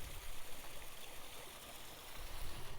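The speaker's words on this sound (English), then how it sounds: "And the sound of the water." Water trickles steadily into a garden pond beside a hollow stump, a continuous close splashing wash with no voices.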